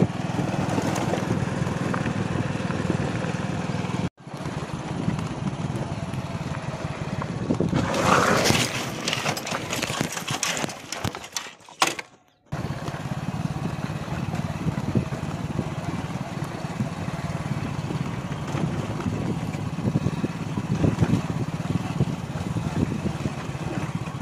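A motorcycle engine drones steadily while riding along a road, a constant close mechanical hum with brief dips and a moment of dropout midway, and no talk.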